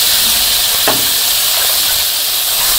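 Potatoes and eggplant with turmeric, salt, dried and green chili frying in a pan, a loud dense sizzle and hiss close by, with one brief stirring scrape partway through.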